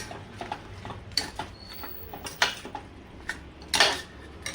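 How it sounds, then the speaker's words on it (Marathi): Prawns are mixed in a metal pot with a spoon, giving irregular clinks, scrapes and taps against the pot at close range over a quiet background. "आता मस्त मिक्स करायचे प्रॉन्स"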